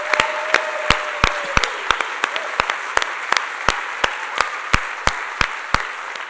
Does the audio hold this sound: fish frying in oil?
no